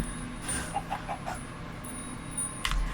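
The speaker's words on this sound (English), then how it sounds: "Over here, oh, are the chickens." Minecraft chickens cluck in short, soft bursts, a few clucks spaced across the moment, with a quiet background hum and faint game sounds.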